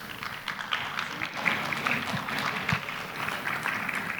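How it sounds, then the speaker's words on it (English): An audience gives a round of applause for a book-launch panel, a soft, steady patter of many hands heard from a distance. It stays even throughout with a few louder claps. "And a loud round of applause for our panel today."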